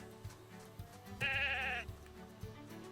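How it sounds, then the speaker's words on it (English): A sheep bleats once in a farming video game, a clear wavering call of about half a second over quiet ambient game sound with a few soft thumps. "Park my sheep right here."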